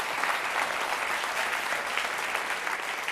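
A room full of attendees at a 2018 NewFront marketing event applauds a performer. The clapping is steady and close, a dense wash of claps running unbroken for three seconds.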